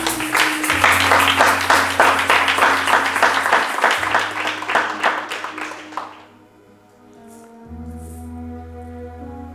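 A church congregation applauds in a dense, loud burst of clapping that carries on for several seconds and then fades, with sustained organ or keyboard tones underneath.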